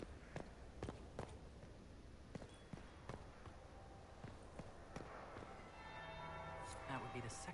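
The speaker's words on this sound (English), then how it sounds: "That would be the second bell." A bell tolls in a grand hall setting, struck several times at a slow, steady rhythm, each stroke a sharp ringing hit over a murmuring background, with some tonal ringing later.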